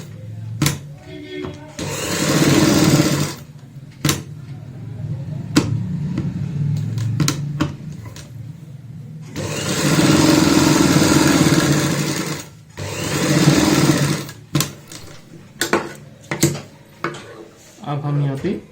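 Sewing machine stitching seams on a baby frock with a quarter-inch margin, running in bursts of a few seconds each, with pauses and handling noises in between.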